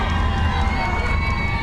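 Cheering crowd at a Little League World Series ballpark in Warner Robins, Georgia, during a Tennessee versus Georgia game, a steady, dense roar of voices with shouts mixed in, continuous throughout.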